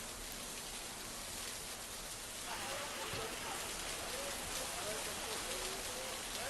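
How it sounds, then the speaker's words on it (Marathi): Steady, dense heavy rain hisses on surfaces throughout in the Konkan region of Maharashtra, with a faint voice talking softly beneath the downpour in the second half. "अनेक तालुक्यांमध्ये मुसळधार पाऊस पडतोय"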